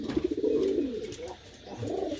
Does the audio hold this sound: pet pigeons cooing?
yes